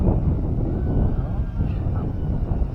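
Strong wind on a farm roars and buffets the microphone in a loud, continuous low rumble that gusts unevenly throughout.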